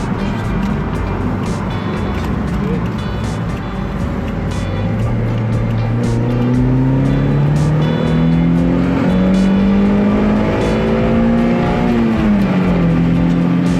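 A Toyota MR2 sports car drives with a loud, continuous engine drone, the pitch rising steadily through the gears as it accelerates, then dipping and climbing again near the end, heard from close by.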